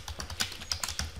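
Rapid keystrokes on a computer keyboard while entering an interface description during router configuration, a steady run of close, crisp clicks with uneven rhythm and no talking.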